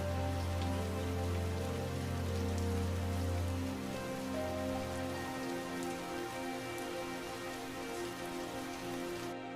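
Heavy rain pours down steadily as a cartoon-style sound effect, a dense continuous wash of drops with a low droning layer underneath, loud and unbroken throughout.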